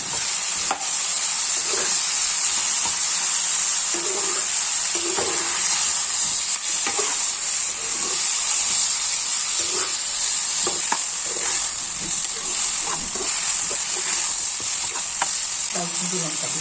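Ginger-garlic paste for chicken khichuri sizzles steadily in hot oil, with the scrape and clink of a spatula stirring through the loud, close frying hiss.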